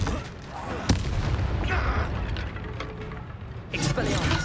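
Confringo fire spell blasts in the Hogwarts Legacy video game, a sharp crack near the one-second mark and a burst near the end, over dense continuous game action and effects.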